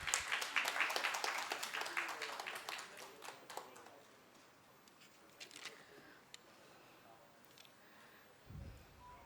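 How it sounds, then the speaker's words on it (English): An audience at a chartered accountants' branch event applauds to welcome a panelist, with dense, close clapping for about four seconds that thins into scattered claps and fades. "Can you welcome our panelist with a clap, please?"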